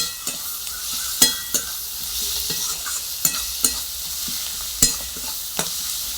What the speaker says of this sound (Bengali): আদা দিয়ে আবার একবার নেড়ে নেব